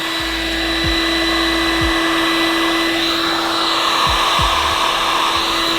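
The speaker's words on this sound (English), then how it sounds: "in this case we're going to be using a mains heat gun. I'm going to heat the heat shrink, keeping it constantly moving." A mains heat gun blows hot air onto heat shrink tubing over a repaired wire, giving a loud, steady fan whoosh with a constant tone that runs throughout without pause.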